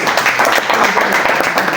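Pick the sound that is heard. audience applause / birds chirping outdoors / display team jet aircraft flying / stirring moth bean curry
audience applause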